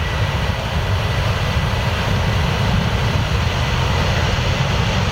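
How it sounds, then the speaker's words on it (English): Wizz Air Airbus A321-231 jet on the runway at London Luton airport, a loud, steady broadband engine roar that stays constant throughout. "So this is Wizz Air London Luton to Tirana. It's the Airbus A321-231."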